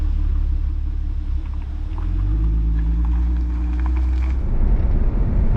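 Audi TT Mk1 driving over an uneven road, heard from inside the cabin as a loud, steady low rumble of engine and tyres with faint knocks and rattles from the bumpy surface.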